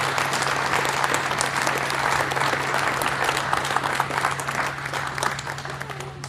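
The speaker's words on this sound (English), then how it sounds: "Can I have a round of applause for these awesome people?" Sustained applause from an audience at an award ceremony greets the nominees, dense and steady throughout with a constant low hum underneath.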